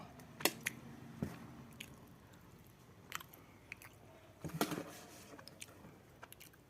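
Close, quiet chewing of cooked kochur loti (taro stolons), with soft wet squishes and light bites in irregular bursts over a faint room background.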